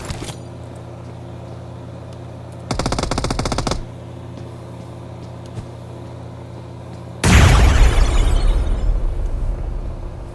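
Gunfire and a grenade explosion in a competitive shooter video game. A short burst of rapid shots comes first, then a loud booming blast that slowly fades, over a quiet steady background.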